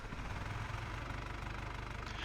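A tractor engine idles in the farming game Farming Simulator 22, a steady low rumble with a rhythmic knocking pulse, loud and continuous with no talk over it.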